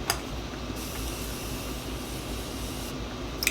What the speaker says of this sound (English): Okay, setting spray.